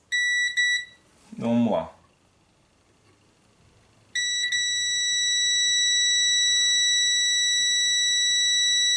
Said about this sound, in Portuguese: Vou medir agora com o multímetro.